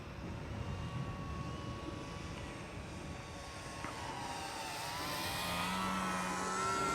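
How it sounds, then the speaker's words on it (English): A radio-controlled model plane flies overhead with a thin, steady motor whine that rises slightly in pitch and grows a little louder toward the end, set against faint wind noise. "Phil, you are flying this plane like a boss."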